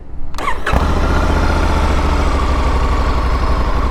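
A Honda Africa Twin Adventure Sports motorcycle engine cranks briefly, then catches and settles into a loud, steady, throbbing idle close by.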